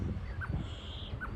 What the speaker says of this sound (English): But it's nice to hear the birds singing.